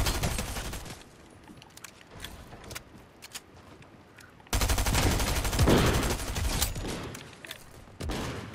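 Gunfire in Fortnite, with scattered sharp shots over a low background early on, then a loud dense burst of rapid firing and impacts that stays heavy, ending with another sharp volley.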